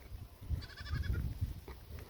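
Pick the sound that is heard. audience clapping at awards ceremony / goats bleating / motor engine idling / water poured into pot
goats bleating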